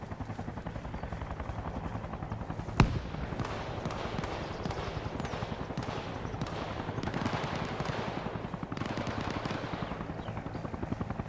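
Gunfire in the Arma Reforger video game, with a single sharp shot standing out over a steady, rapid mechanical thrumming resembling a helicopter rotor that continues throughout.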